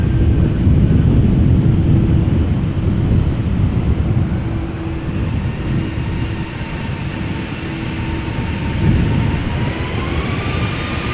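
Airliner engines roar loudly at Amsterdam Schiphol Airport, a heavy broadband rumble with a faint rising whine that holds steady for over ten seconds and swells slightly near the end, with no talk.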